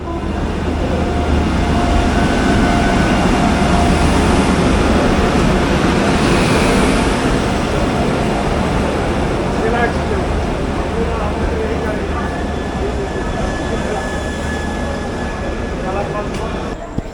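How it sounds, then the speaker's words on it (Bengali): Mithila Express passenger train rolling into a busy station platform, a loud continuous low rumble and rail noise that holds steady throughout, with station crowd voices mixed underneath. "ওই টাইমটাই তখন অ্যানাউন্সমেন্ট হলো যে 1 নম্বরে মিথিলা এক্সপ্রেস ঢুকছে"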